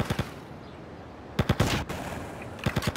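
Gunfire from a street shootout in GTA Liberty City Stories comes in three short rapid bursts, at the start, the middle and the end, with quieter game ambience between them.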